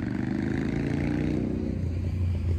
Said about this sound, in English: the motorcycle going by